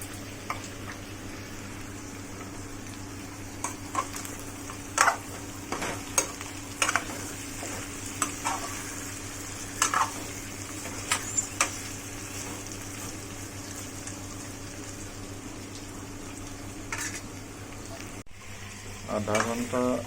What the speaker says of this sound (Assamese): 5 মিনিট আকৌ ভাজিম।